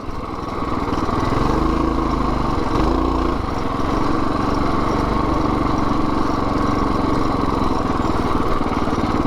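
A minibike engine runs steadily at close range while being ridden into Harvey, New Brunswick, a constant buzzing drone with brief pitch shifts as the throttle changes early on.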